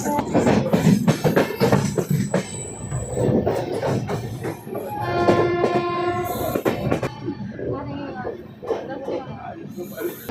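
The Budhpurnima Express with new LHB coaches rumbles along with rhythmic wheel clatter and a horn sounding partway through, heard from inside the train amid chatter from passengers.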